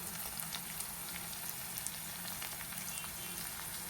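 Bitter gourd pieces fry steadily in a pan for a chilli-spiced dish, giving a soft, continuous crackle and fine spitting like light rain, fairly faint and even throughout with no voices.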